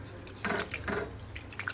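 Raw chicken being washed in salt water, with a few soft splashes and drips of water in quick succession, quiet and close.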